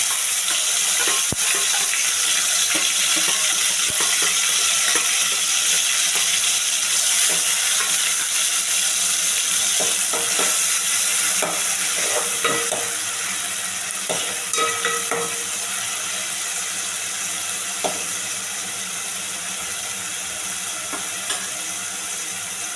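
Tomatoes sautéing in a spoonful of hot oil as the base for a pomfret fish curry, a loud continuous sizzle with scattered clicks and scraping stirs, easing slightly toward the end.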